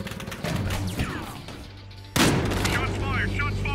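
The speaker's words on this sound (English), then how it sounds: "Shots fired!" Gunfire in Battlefield Hardline breaks out with a sudden loud crack partway through, then a dense roar of shots and impacts, while voices talk throughout.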